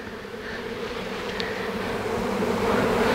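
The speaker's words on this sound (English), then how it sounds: "People don't realize how many bees there are until you actually start dumping them out of the bucket." Honey bee swarm buzzing steadily as the bees are dumped out of a bucket during a swarm removal in Weslaco, Texas, a dense continuous hum that swells slightly louder toward the end.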